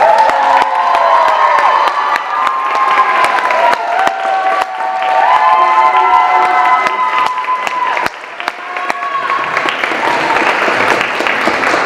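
Loud crowd at an EP release event cheering, whooping and clapping for Zelaiah, high excited shouts and steady clapping filling the room throughout.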